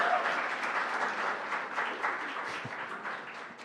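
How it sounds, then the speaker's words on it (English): Audience applause at a student guild election results night, honoring the newly elected trans and non-binary students officer: dense, steady clapping from a crowd, sustained throughout and slowly tapering slightly. "Round of applause for Abigail"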